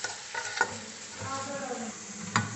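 Mutton sizzling and frying in a pan while being stirred, a steady close hiss with scraping strokes of the spoon and a couple of louder stirring bursts.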